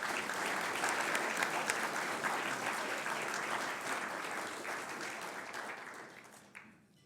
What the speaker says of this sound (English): A round of applause for our head table.